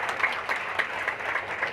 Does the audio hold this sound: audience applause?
yes